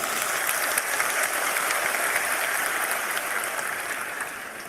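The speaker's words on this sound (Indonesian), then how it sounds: "Kita berikan tepuk tangan dulu." A large crowd claps steadily in sustained, dense applause at a religious lecture event, slowly fading a little toward the end.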